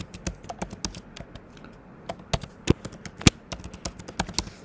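A password is typed on a computer keyboard: a quick, uneven run of close, crisp key clicks, with a few louder taps standing out.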